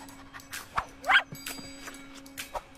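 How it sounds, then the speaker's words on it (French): A hungry dog gives a few short, moderately loud barks and yips, scattered over a quiet background hum. "Par un chien affamé."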